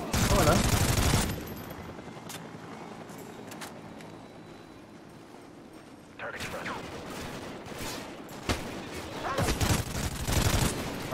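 Bursts of rapid automatic gunfire in the Call of Duty: Ghosts campaign crackle loudly, with a heavy barrage at the start and scattered shots later, under a voice.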